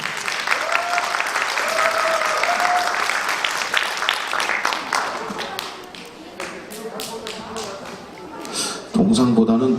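An audience applauds at an award ceremony, a burst of clapping that swells and then thins into scattered claps, with an announcer's voice speaking over it near the end.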